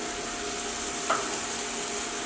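Small tomato frying in a pan of sautéed ingredients for egg thoran gives off a steady, soft hiss throughout, with one brief faint clink partway through and no voices.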